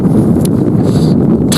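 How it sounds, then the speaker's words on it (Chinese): Strong wind on a cold, gusty day at a wild riverbank fishing spot buffets the microphone in a loud, continuous low roar with brief crackling bursts. "今天大风又降温"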